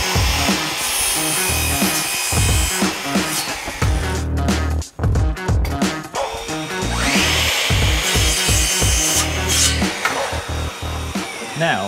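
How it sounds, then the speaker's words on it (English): A mitre saw cuts wooden frame pieces with mitred corners, its loud close motor roaring through several cuts with brief pauses and a spin-down between them, and no talking. "I'm going to get that done on the mitre saw."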